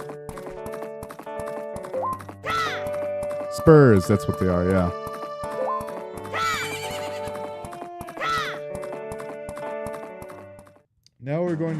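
Horse neighs and whinnies in Majora's Mask 3D, with galloping clip-clop under game music, a loud neigh bursting out near the middle and talk running over it.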